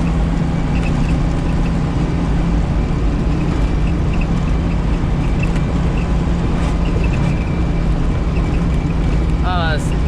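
A Suzuki Samurai engine after an axle change, blipped and revved steadily under a continuous low rumble throughout, with faint talk over it.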